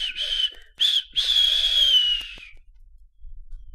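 Thomas the Tank Engine's steam whistle blows impatiently: two short shrill blasts followed by a longer held one that slowly fades, loud and alone with no talking.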